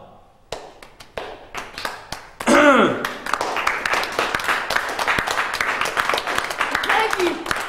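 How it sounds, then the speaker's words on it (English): Scattered hand claps build into a short burst of applause from a small audience, with someone talking and shouting over the clapping as it continues. "How about a little applause?"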